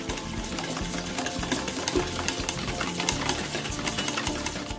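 Room-temperature butter being beaten for Oreo cupcake batter, a steady close whirring and rattling drone that holds level throughout with no talk.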